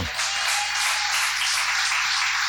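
Congregation in a church breaking into loud sustained applause, a dense continuous wash of many hands clapping with no voices on top.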